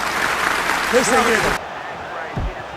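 A stadium crowd in EA FC24 applauds a substituted player, a short burst of clapping and cheering that cuts off abruptly halfway through, with someone speaking briefly over it.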